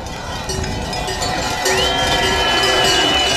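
A crowd cheers and applauds at the finish area of a ski instructors' race in Grand Bornand while cowbells clang continuously, loud and dense, with voices mixed into the sustained din.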